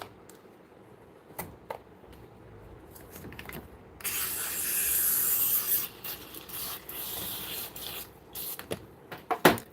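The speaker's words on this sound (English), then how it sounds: "I'm just gonna mist in here a little bit." A spray bottle mists water into a reptile enclosure during evening cleaning, giving one sustained hissing spray burst of about two seconds, close by, amid small scattered rustles and taps.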